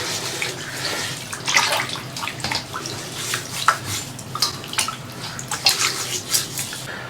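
Blanched pork belly is rinsed under a running tap: a steady, close splash of flowing water with irregular splattering as the meat is turned beneath the stream, with no voices.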